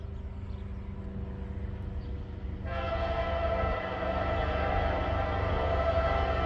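A CSX intermodal freight train rolls past State Route 303 near LaGrange, Ohio, a steady rumble of wheels and cars that swells partway through as the passing grows louder and closer, with no talk.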